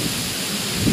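Typhoon winds and rain in Silang, Cavite under signal #4 roar in a dense, continuous wash of noise, with heavy low-end microphone buffeting that surges louder at the very end.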